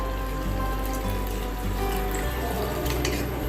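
Water is poured into a simmering egg korma gravy, a steady trickle and splash under a constant low kitchen rumble, close and continuous with no speech.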